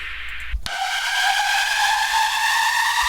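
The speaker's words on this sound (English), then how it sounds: "Okay, and then we have this downlifter. We have a riser." A bright, sustained riser effect in a metal track transition swells in after a brief thump and holds steady, a bright hissing tone with no talking.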